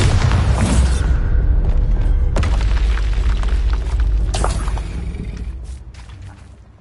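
A Bombarda explosion spell in Hogwarts Legacy erupts as a loud, deep boom with a rumbling burst and scattered debris crackle, then trails off gradually.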